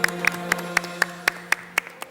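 Rhythmic clapping from a game-show studio audience after a semifinal team's score is announced: about nine sharp, evenly spaced claps, close and fairly loud, with no voices over them.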